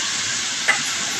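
Grated bottle gourd sautéing in a pan for a milk-based halwa gives a steady, close, even sizzling hiss, broken by one brief clink near the middle.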